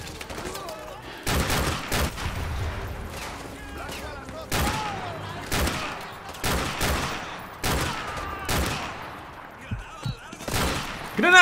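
Rapid bursts of Call of Duty: Modern Warfare 2 gunfire, several volleys of sharp shots in quick succession, with voices talking in between.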